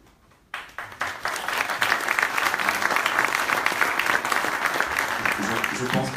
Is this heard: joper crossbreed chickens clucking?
no